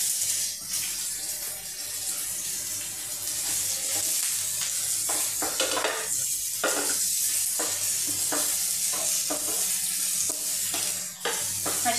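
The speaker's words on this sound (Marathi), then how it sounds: "मातशी तळसून घेऊया कांद्या." Onions sizzle and fry in a pan while being stirred, with scraping utensil strokes over a steady bright hiss, close and alone with no talk, while cooking Goan chicken 65.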